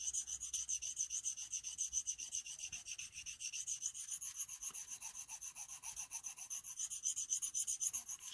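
Steady rhythmic rasping of a SOL Phoenix survival tool's blade being sharpened, repeated strokes close and clear with an even back-and-forth cadence throughout, no voices.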